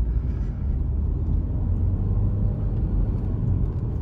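A car engine in sport mode gives a steady, low, close rumble from inside the cabin during downshifts, with no distinct rev spikes.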